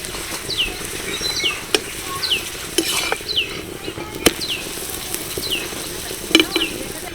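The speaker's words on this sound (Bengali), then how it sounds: "এটাও বেশ সুন্দর করে ভেজে নিয়েছি" An aloo paratha fries in a little oil with a soft, steady sizzle, while sharp clinks of utensils on a pan come now and then, close and with no one speaking.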